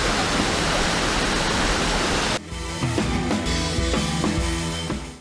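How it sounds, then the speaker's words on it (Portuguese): The Cachoeira do Açude waterfall in Vale do Alcantilado, Visconde de Mauá, Rio de Janeiro, roars loudly as a dense, steady rush for about two seconds before cutting to quieter sound with tonal notes. "De baixo para cima, a Cachoeira do Açude. Cachoeirão, hein?"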